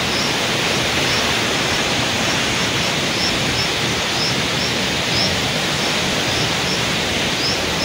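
Atri Falls in Uttarakhand roars with an unbroken, dense rush of falling water, loud and close, without any voices.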